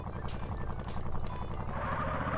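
Video game car fitted with nitro, its exhaust blatting and popping in a steady pulsing rumble, close and moderately loud with no voices over it.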